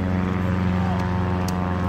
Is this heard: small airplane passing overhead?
yes